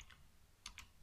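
Quiet keystrokes on a computer keyboard, a few light taps in a short burst with several clustered near the end, close and isolated.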